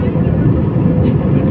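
An airplane climbing away after takeoff from an airport in Saudi Arabia gives a dense, steady roar that stays loud and unbroken for the whole short stretch.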